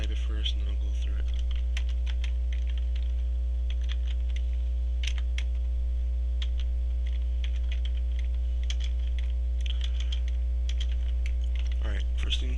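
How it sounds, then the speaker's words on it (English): Steady computer-keyboard typing while C++ for-loop code is entered, a quick, uneven patter of keystrokes running throughout with no talk, over a constant low electrical hum. "I'll type it first and then I'll go through it"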